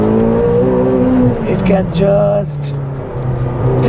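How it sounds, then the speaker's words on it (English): McLaren GT with a mid-engine twin-turbo V8 and twin-clutch gearbox driving hard, a loud steady engine drone with shifting pitch and a brief gear change, a voice speaking over it. "Now this is a mid-engine V8 turbo with twin clutch gearbox"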